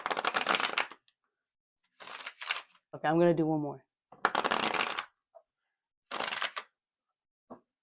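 Tarot cards shuffled in short riffling bursts between spoken remarks, close and crisp, with a brief sung or hummed phrase in the middle.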